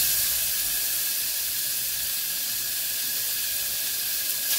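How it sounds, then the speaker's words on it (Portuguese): Chopped beef sautéing in a hot pan with a loud, dense, continuous sizzle, close up and steady throughout, with no speech over it. "Aqui eu vou refogar uma carne."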